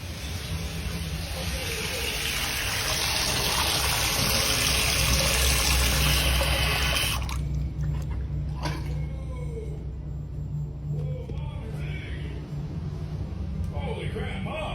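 A household tap gushes water in a loud, steady broadband rush that cuts off abruptly about halfway through, leaving quieter room noise with voices talking.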